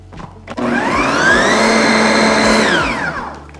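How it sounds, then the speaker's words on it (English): A blender processes chickpeas into hummus: its motor spins up into a loud, close, steady whirring roar for about three seconds, then starts to wind down. "Now we're gonna blend this."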